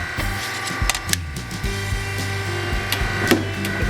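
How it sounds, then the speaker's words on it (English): Notches are cut from sheet metal for an electronics project box, a close run of scraping, rasping cuts with sharp clicks and knocks, fairly loud and steady over several seconds, with no talking. "So we'll cut these last two notches out."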